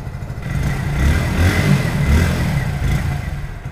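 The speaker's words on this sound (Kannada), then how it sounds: "ಬೈಕ್ನ ಸ್ಟಾರ್ಟ್ ಮಾಡೋಣ್ರಿ, ಅದ್ರ ಜೊತೆಗೆ ಬೈಕಿಂದ ಸೌಂಡ್ ಅನ್ನು ನೋಡೋಣ್ರಿ ಯಾವ ರೀತಿ ಆಗಿದೆ ಅಂತೇಳಿ" Hero Passion Plus 2024 motorcycle engine in neutral, running steadily at a smooth idle with a low, even throb, close and fairly loud throughout with no talk.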